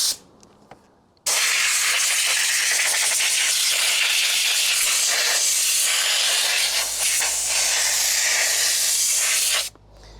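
A loud, close burst of compressed air from an air compressor nozzle blows brake dust off an RV wheel hub, a steady forceful hiss lasting about eight seconds after a quiet start, with a low compressor hum joining near the end.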